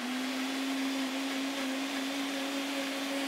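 A blender runs steadily on an onion mixture in a cooking-class kitchen, a loud, constant motor whir with a sustained hum throughout and no talking.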